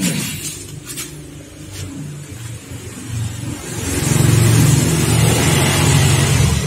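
Yamaha RZR motorcycle engine starting up after carburetor work, a quieter mechanical stretch giving way to a loud, close, steady idle that fills the last few seconds, no talk over it.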